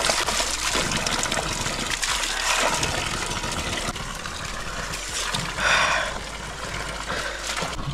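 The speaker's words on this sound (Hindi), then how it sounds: "ये जो पानी है पूरा प्योर है, पहाड़ से गिरते हुए यहाँ पे आ रहा है" Pure mountain stream water tumbles down from the heights on the Rudranath trek, a constant loud rushing and splashing wash with brief surges, close by and without talk.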